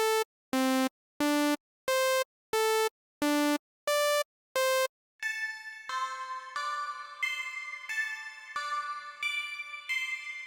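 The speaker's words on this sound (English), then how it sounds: "This is the preset Hey Listen from the Cute and Stuff pack." A subtle melodic synth preset called Hey Listen from the Cute and Stuff pack, in a beat, plays eight short, evenly spaced bright notes, then shifts into a fuller, sustained layered synth passage.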